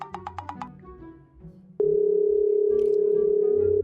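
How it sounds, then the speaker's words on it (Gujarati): A telephone dial tone, a loud steady electronic hum starting abruptly midway and holding unbroken to the end, after a few brief beeps and soft background sounds. "લાવ જલ્દી સવાર થઈ ગઈ ફોન કરી લઉં."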